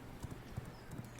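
Horse hooves clip-clop in the video game V Rising, a few soft, quick thuds in an uneven gallop rhythm, faint and close, with no voices over them.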